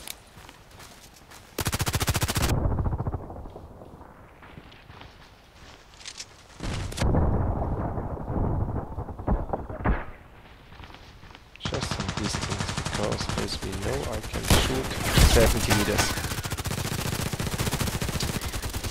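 Pistol gunfire in the video game Contract Wars comes as loud bursts of rapid shots separated by quieter stretches, the reports dense and sustained in places amid game background noise.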